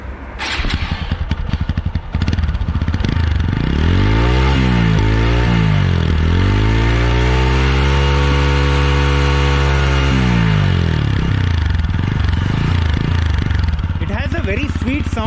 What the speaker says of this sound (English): I'll just show you how the engine roars.